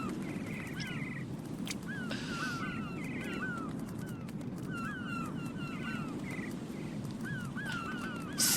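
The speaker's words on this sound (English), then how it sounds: "Seagulls now in surround sound." Seagulls cry again and again in Metal Gear Solid 2 game audio, their sharp falling calls scattered across the whole stretch over a steady low rumble of background noise.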